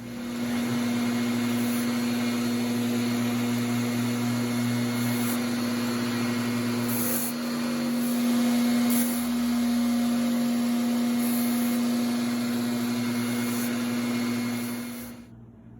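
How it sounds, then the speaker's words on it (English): A small electric hand sander smooths the rough edges of an Old Hickory knife blade. It gives a steady, close electric whine and hum that runs about fifteen seconds, dips briefly partway through, then cuts off at the end. "I'm going to take this little hand sander, smooth out all the rough edges"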